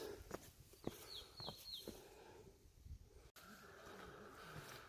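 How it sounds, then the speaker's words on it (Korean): Short, high chirping bird calls repeat in quick bursts, moderately close, on a rocky mountain trail on Bulgapsan, Korea, over faint outdoor background noise and a few footstep-like knocks. "아, 새소리 정말 죽여주네."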